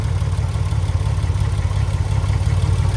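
A Triumph TR6 engine with mechanical fuel injection idles close by in a steady, even rumble with no talking.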